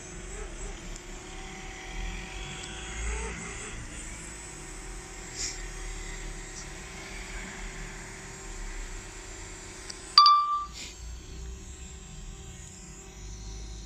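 A DJI Mavic Mini drone flies in high-altitude fog, its steady buzzing whine and broad hiss running continuously, with a brief louder gust-like burst and dropout near the end.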